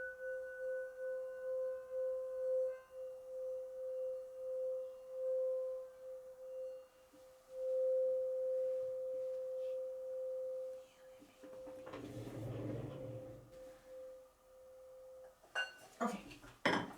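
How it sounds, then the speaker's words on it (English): A singing bowl rings with a steady sustained tone that swells and fades over many seconds, joined near the end by brief rustling and clinking. "Let's give you guys some nice singing bowl energy."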